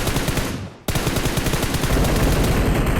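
Loud, sustained automatic gunfire in the mobile battle royale PUBG Mobile, a dense rapid burst that cuts off briefly, then resumes as continuous close-range firing.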